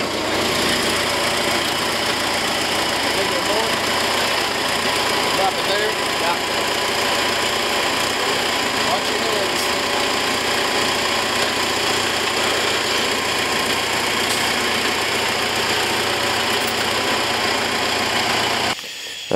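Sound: Chevrolet 283 V8 engine with 4-barrel intake running

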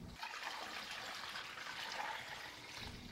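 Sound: cold water poured into empty fermenter for homebrewing beer

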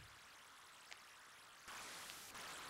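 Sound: stream water sound from Atari 8-bit video game Salmon Run

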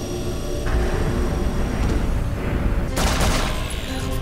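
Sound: gunfire in a video game

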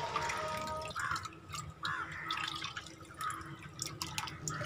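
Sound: banana-leaf water being poured into a fish tank

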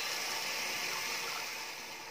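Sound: pouring water into a pot for rice

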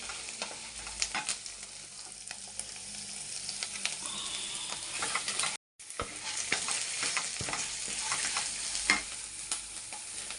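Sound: dried red chillies sizzling as they fry in a pan

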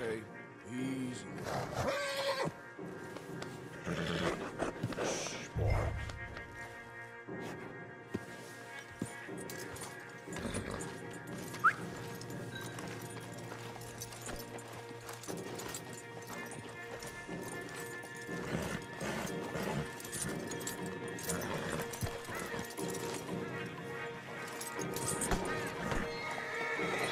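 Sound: horses neighing and hooves clopping in a Rockstar video game

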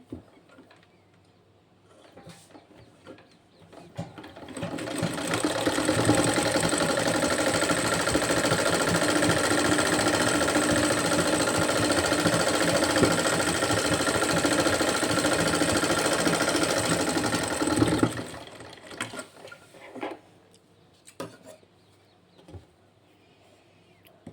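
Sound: sewing machine stitching a sleeve cuff

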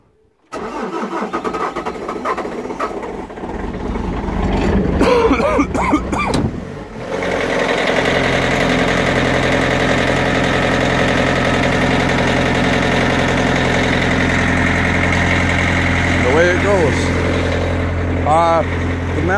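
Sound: skid steer engine starting and idling

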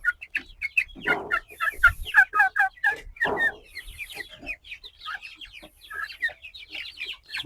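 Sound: chickens clucking

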